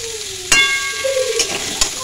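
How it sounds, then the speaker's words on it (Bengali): Winter vegetables sautéing in oil in a pan, a soft steady sizzle with a few sharp spatula scrapes and clinks, plus a faint whistling tone underneath. "সবগুলোকে বাবা তেল সবগুলোকে আবার ভালো করে কষিয়ে নিচ্ছি।"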